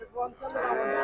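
A young heifer lets out a single short moo at the Noymail cattle market in Chuadanga district, fairly close and moderately loud, with the call rising and holding briefly.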